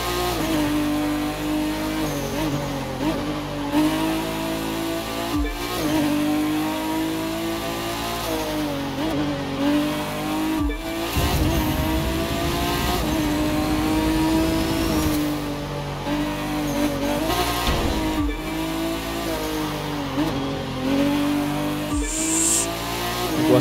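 A Nissan Skyline GT-R R34 Touring car roars around a narrow track in the racing game The Crew 2, its engine revving up and down through gear shifts with occasional tire squeal, loud and continuous.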